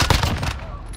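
Rapid gunfire in a video game gunfight on a cargo map, a brief loud burst of shots up close that fades out within a second.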